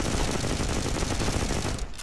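Rapid, sustained automatic fire from a T4 Marauder gun in the mobile shooter Modern Combat 5, loud and dense for about two seconds before tapering off.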